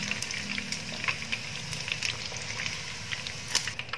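Chicken frying in oil sizzles and crackles steadily with frequent sharp pops and spatters close by, no voices.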